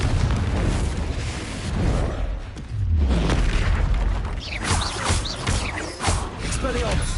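Confringo explosive spell blasts from the video game Hogwarts Legacy, a dense run of loud booming bursts layered over continuous clamorous game noise, with a voice shouting over it.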